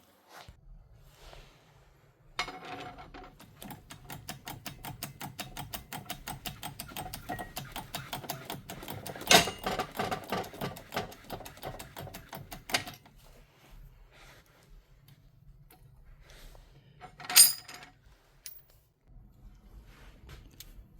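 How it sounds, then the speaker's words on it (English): A press grinds slowly as bearing splitters force the centre shaft off a Bosch GWS9-115S angle grinder, a close, rapid ratcheting click train that builds for several seconds, followed by a sharp crack as the part lets go and a few quieter knocks. "clamp this with a set of splitters and press the centre shaft off"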